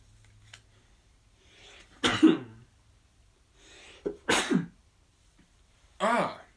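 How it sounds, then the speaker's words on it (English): Indoors, a person sneezes about three times at irregular gaps, each a sharp, close burst, with faint breathing and a throat sound between them. "Random sneezing."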